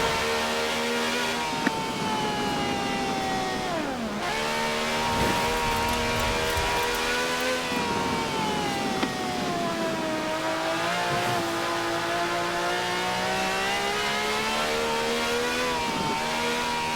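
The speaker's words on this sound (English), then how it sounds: "This has a V12 with over 750 horsepower, plus bucket seats" A V12 car engine of over 750 horsepower revs hard in the Forza Horizon 4 racing game, its pitch climbing and falling through gear changes in a continuous loud drone with no talk.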